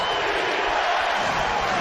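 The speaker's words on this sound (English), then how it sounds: "Crowd loving it." A packed NBA arena crowd at a Los Angeles Clippers vs Indiana Pacers game roars loudly and steadily, a dense, unbroken wash of cheering throughout.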